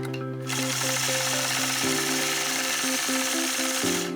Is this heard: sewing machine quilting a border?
yes